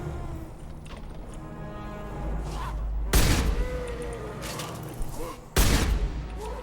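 Husk enemies exploding in Mass Effect 2, two loud sudden booms a few seconds apart that rise from a rumbling combat background, with a voice speaking between them.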